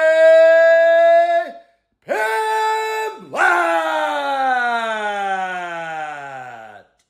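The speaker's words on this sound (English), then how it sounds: "presenting the extra large bully, the reigning, defending, best dog ever" Extra large American bully dog, about 101 pounds, giving long sustained howls with harmonic tones that rise and slide downward, three drawn-out calls with short gaps, loud and close.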